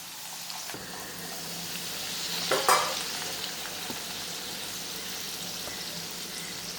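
Rolled chola poori dropped into hot oil, a steady soft sizzle of frying with a brief louder burst as the dough hits the oil, close and continuous.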